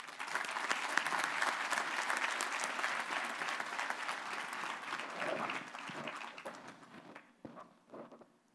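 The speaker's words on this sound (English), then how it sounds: "please join me again in a round of applause in welcoming Dr. Katie Leonard" A crowd applauding steadily at a college commencement ceremony, dense clapping that holds for several seconds, then thins out and trails off into a few scattered claps.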